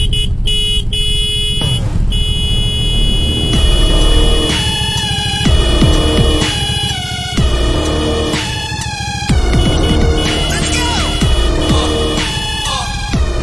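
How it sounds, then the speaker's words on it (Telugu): Several car horns honk in overlapping, sustained blasts on a congested road, loud and close, forming a continuous blaring chorus with shifting pitches throughout. "ఎవరినన్నా ఒక్కడిని హార్న్ కొట్టమను"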